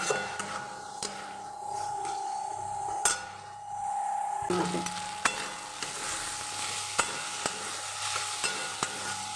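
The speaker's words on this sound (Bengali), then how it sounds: "পুরো উপকরণটা খুব ভালো করে কষিয়ে নিতে হবে।" Minced chicken keema and spices stir-fried in a pan: a steady close sizzle with the scrape and clink of a spoon against the pan at irregular intervals, and no talk.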